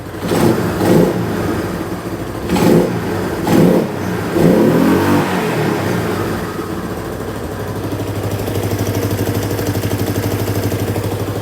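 A Yamaha Moto 4 ATV engine is revved in several short bursts, then settles into a steady, loud idle that runs on without talking.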